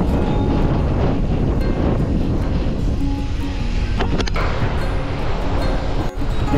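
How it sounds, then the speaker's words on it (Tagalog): Strong seaside wind at Lobo, Batangas buffets the microphone in a loud, continuous low roar with gusty fluctuations, with no voices over it. "Lakas ng hangin sa lubong."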